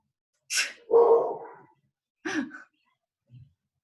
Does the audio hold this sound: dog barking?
yes